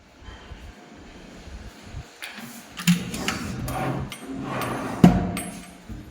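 A built-in wall wardrobe door in a new home opens with a few scattered clicks, knocks and a light rattle of hardware, fairly close and moderate in volume.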